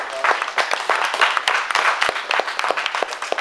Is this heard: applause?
yes